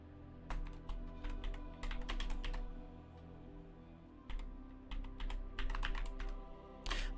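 Quick bursts of clicking keystrokes come from a computer keyboard typed right beside the microphone. They arrive in two loud clusters separated by a short pause.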